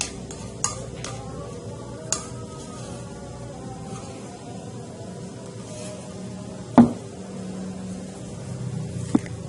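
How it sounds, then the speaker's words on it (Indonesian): Banana cake batter with melted margarine stirred by hand in a bowl for a steamed sponge cake, a soft continuous scraping and swishing with a few sharp utensil clicks against the bowl, no talking. "Kemudian kita aduk rata kembali."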